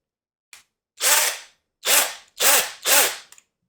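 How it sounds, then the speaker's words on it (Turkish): An SGS Plus 20V cordless impact drill (SGS5245) fires in short bursts: a brief blip, then four loud, rattling runs of about half a second each, close up with no talk. "Darbeli bir matkap. Şöyle test edebiliriz."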